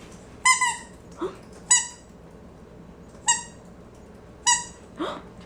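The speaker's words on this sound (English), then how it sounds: "How about you guys want the squeaky?" A squeaky dog toy squeaks four separate times, each a sharp, bright, close squeak with quiet pauses between, while dogs play and fetch it.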